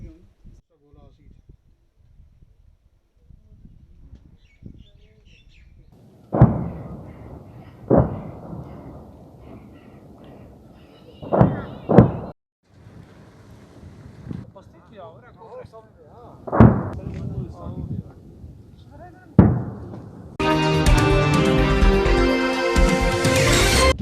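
Gunfire and shelling along a border area: a series of loud, sharp reports spaced irregularly over the span, some near and booming, with a sustained roar near the end and people talking in between.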